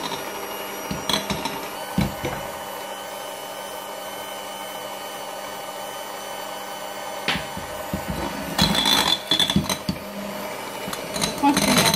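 Cake batter for a Black Forest Yule log roll being whisked while sugar and vanilla sugar go in: a continuous whirring drone with occasional knocks against the bowl, growing busier near the end.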